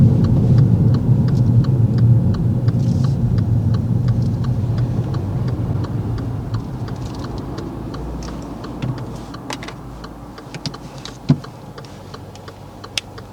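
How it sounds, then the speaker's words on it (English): A car engine idles with the air conditioning running, a steady low rumble joined by faint ticking clicks and a few sharp taps near the end. "Let's leave the engine running so the AC stays on because it's quite hot out today"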